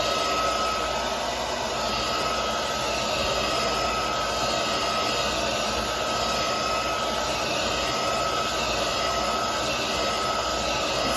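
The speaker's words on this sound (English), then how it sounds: "I just heat my flange up for a second with the hairdryer." A hair dryer blows continuously at close range, a loud, steady whirring hiss that stays even from start to finish.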